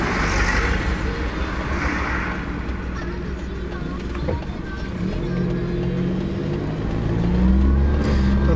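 Engine of a Daihatsu Move turbo kei car droning steadily from inside the cabin, swelling slightly toward the end as it accelerates, with a low continuous road rumble throughout.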